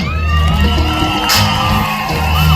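A church congregation welcoming a guest with loud cheering, whoops and shouts, a dense close crowd roar sustained throughout with bursts of clapping and raised voices.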